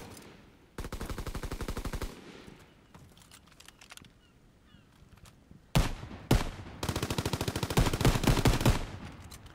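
Call of Duty WWII gun range: rapid automatic gunfire comes in two long bursts, loud and close, with sharp crackling shots in between and no talk.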